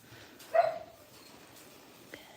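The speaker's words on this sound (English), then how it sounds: "He's over in the corner barking at something." A single distant dog bark rings out briefly on a goat farm, followed by a faint short yip, over quiet outdoor background.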